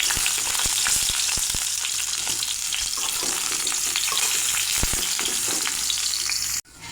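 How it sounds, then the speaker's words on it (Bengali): Eggplant frying in hot oil gives a loud, continuous close-up sizzle with scattered crackles and pops that runs steadily until it cuts off abruptly near the end. "এখন বেগুন ভেজে নেব।"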